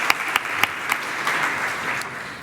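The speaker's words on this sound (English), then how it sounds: "round of applause" Applause at a 70th anniversary celebration program, a few sharp early claps quickly swelling into a brief steady round of clapping from the audience.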